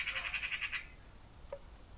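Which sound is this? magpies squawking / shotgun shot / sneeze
magpies squawking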